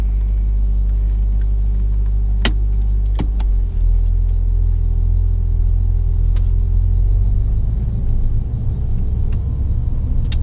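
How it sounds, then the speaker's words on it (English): A petrol car engine idles and revs at a steady, constant pitch, a continuous low rumble with a few sharp clicks and knocks early on. "keep that noise the same in the background, like you were just here. The rev noise."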